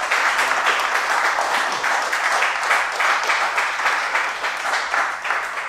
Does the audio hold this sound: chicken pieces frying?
no